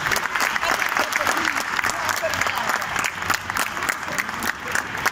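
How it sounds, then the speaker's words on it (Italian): Crowd at the Gardacon 2022 convention applauds a puppet act and its performing group, a loud, continuous mass of clapping with crowd noise and some voices mixed in, steady from start to finish. "Facciamo un applauso a Wanda, Pietro, al gruppo 80!"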